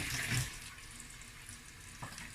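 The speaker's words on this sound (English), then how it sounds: "Okay, so I'm going to add water" Tap water pours steadily into a container for blending beans, a soft continuous splashing hiss lasting the whole moment with a slightly louder burst at the start, no talking.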